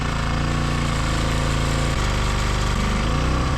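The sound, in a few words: power drill spinning engine oil pump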